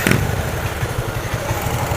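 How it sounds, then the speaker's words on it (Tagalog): A motorcycle with a faulty stator coil starts with a brief burst, then idles in a steady, close, low chugging putter that continues throughout. "start ko muna itong makina"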